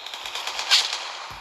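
Rapid gunfire rattles in Fortnite played on a mobile phone, a fast, steady stream of bright shots at moderate level with one slightly louder burst, no voices over it.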